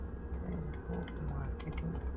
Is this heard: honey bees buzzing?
no